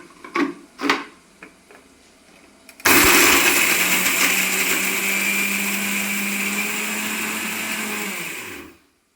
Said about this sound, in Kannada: ಮಿಕ್ಸಿ ಮಾಡ್ತಾ ಇದ್ದೀನಿ.